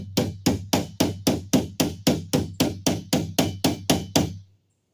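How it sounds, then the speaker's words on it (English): A multitool used as a hammer strikes about fourteen times in an even, steady rhythm, each blow a sharp, close metallic knock, with no talking over it. "Let's see how well this thing hammers."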